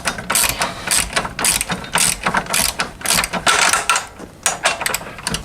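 A ratchet tightens a nut on a spacer for a Can-Am Outlander ATV suspension lift, close rapid clicking in repeated short bursts of strokes.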